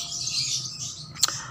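A balibu lovebird chirps in a dense, high twittering stream close by, capped by one sharp louder squeak near the end, with no talking over it.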